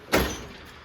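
The packed top drawer of a tool box, full of sockets, slides open in one short, close scrape that fades quickly, with no talking.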